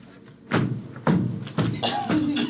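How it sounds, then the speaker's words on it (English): A door slammed shut indoors, heavy thuds landing about every half second in a short series, close and loud, with faint voice-like sound beneath. "I slam the door."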